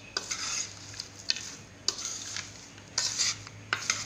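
Crispy fried potato lachha is tossed with salt, black pepper powder and fried curry leaves, giving quiet rustling and scattered sharp clinks of a spoon against the bowl at close range, with no talking.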